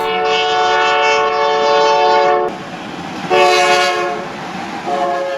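An approaching train sounds its horn in loud, sustained blasts with harmonic tones and brief breaks, over rumbling rail noise.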